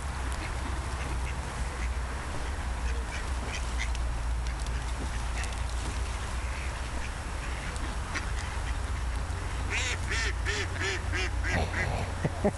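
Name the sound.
ducks quacking while being fed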